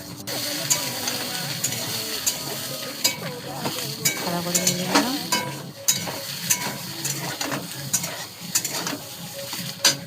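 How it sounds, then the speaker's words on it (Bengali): Soybean chunks fry in hot oil in a wok, a loud close sizzle with repeated metallic scraping and clanks from stirring throughout, and no talk. "আমি সয়াবিনগুলো দিয়ে দিলাম, দিয়ে একটু নেড়ে চাড়া করে নিলাম।"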